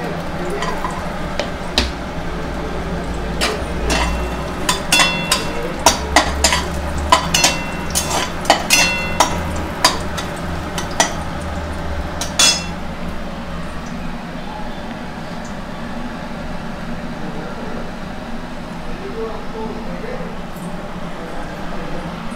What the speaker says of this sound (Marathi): तेल गरम झाल्यानंतर खोबरं भाजून घेणार आहे आपण त्या तेलामध्ये.